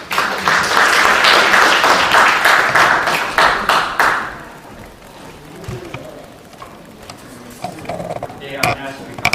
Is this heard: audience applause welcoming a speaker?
yes